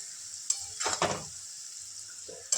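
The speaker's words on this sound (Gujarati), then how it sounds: "હવે તેને એકવાર આપણે હલાવી લઈશું." Radish bhaji with garlic is stirred in a frying pan, a spoon scraping through the sizzling mixture in a couple of short strokes over a soft, steady fry, with a light clink at the start and end.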